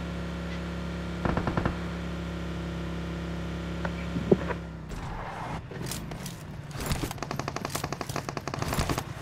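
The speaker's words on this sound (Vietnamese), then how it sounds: "đang bắn nhau rồi" Rapid bursts of automatic gunfire in the PUBG Mobile video game, from the boat section, crackle in dense repeated volleys during the second half, with scattered single shots and engine-like rumble earlier.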